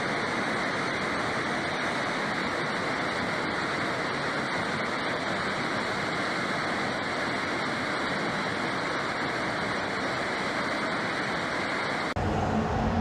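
Howick Falls in South Africa, a tall waterfall plunging in a steady, dense roar of rushing water, loud and unbroken, with no voices over it.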